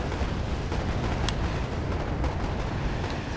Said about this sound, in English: going to be carpet bombing the area